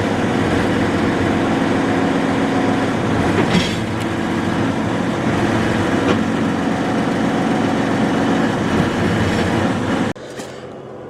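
A tractor engine runs loud and close while the machine is moved back and forth during rock picking, a steady heavy rumble with occasional clanks that drops to a quieter idle near the end.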